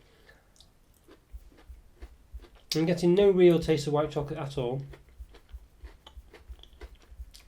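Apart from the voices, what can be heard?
chewing crunchy Cadbury Dairy Milk Coconutty chocolate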